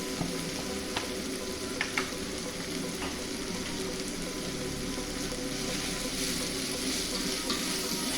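Continuous sizzling of tempeh frying in a pan, with occasional scraping clicks from stirring, close and steady throughout.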